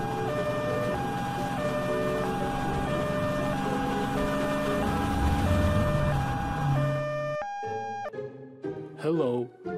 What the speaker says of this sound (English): Let's call Frank the fire truck.